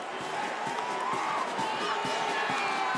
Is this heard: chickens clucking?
no